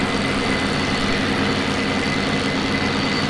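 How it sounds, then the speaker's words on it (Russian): Aircraft engine at full power in the IL-2 combat flight simulator, a dense steady roar with a constant drone, loud and unbroken throughout, no voices. "сейчас двигатель работает на полную мощность"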